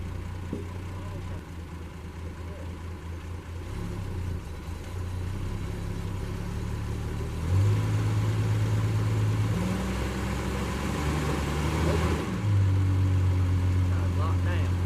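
A 1967 Plymouth Barracuda's engine idles with a low rumble, then surges in revs twice as it is put in drive, while people talk over it.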